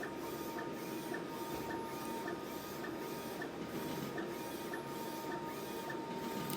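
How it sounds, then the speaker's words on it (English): A two-head DTF printer runs steadily while printing a sample image, its carriage sliding back and forth in a repeating rhythm of whirring and clicking, with a constant high hum underneath. "This is a 2-head printer."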